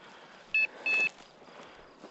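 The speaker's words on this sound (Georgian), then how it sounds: "ეს ბიპერი ნევროს არ გიშლის." Two short electronic beeps from a hunting dog's beeper collar sound close together, the second longer, over quiet outdoor field background with faint rustling.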